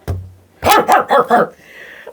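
A dog lets out one short bark, then after a brief pause a quick run of four sharp barks, close and loud, ending with a faint whine.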